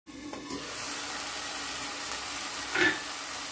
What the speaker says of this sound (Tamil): தக்காளி நல்லா சாஃப்ட் ஆகணும் அது வரை நல்லா வதங்கட்டும்